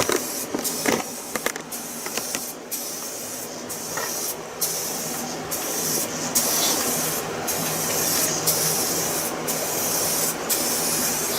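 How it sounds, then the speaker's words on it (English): A spray gun applies clear coat over car paint during a peeling clear coat repair, a close, continuous hissing spray marked by short regular breaks as each pass ends and restarts. "So now we're shooting the clear coat here."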